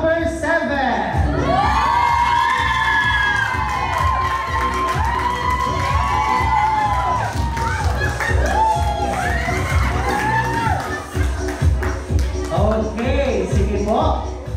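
Wedding guests cheer, shout and whoop loudly for a game contestant, a dense crowd roar with children's high voices, sustained for about fourteen seconds with an announcer's voice mixed in.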